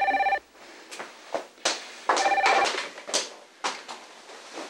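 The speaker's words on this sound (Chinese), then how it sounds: "电话响了" An indoor telephone rings in two short electronic bursts, one at the start and another a couple of seconds later, clear and close, mixed with a few soft knocks and movement sounds and no talking.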